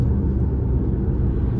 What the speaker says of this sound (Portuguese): quero andar um pouquinho no paralelepípedo pra gente ver qual é desse carro